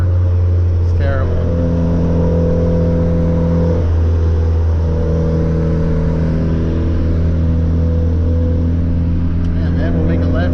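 A big-turbo Volkswagen GTI drives at night, its engine droning steadily and loudly from inside the car. A downshift shifts the engine's pitch partway through, and a voice talks over it.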